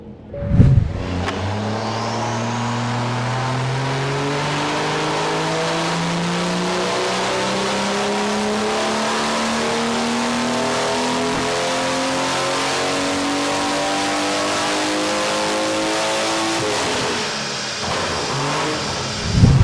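A BMW B58 engine with a big turbo, tuned on methanol, revs in one long rising dyno sweep, its harmonics climbing steadily for about fifteen seconds before it drops back. The sound is loud and continuous, with no talking.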